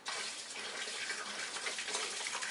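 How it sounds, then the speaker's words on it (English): Distilled water poured steadily into a fog machine's tank through the fill opening, a continuous soft splashing gush with no pauses, fairly quiet and heard alone. "pour distilled water."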